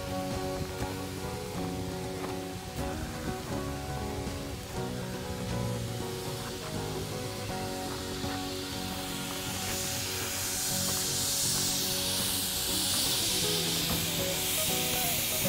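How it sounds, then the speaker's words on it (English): Continuous broad hiss of escaping steam from a narrow gauge steam locomotive at Cripple Creek, swelling louder toward the end, over a low rumbling mechanical background, no voices. "pulling up to Cripple Creek. Steam locomotive."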